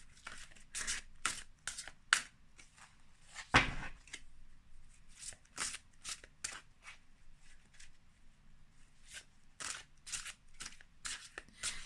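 Cards are shuffled during a tarot-style reading in crisp, rapid riffles and snaps that come in irregular bursts, close and fairly quiet, with short pauses between and one heavier thump midway.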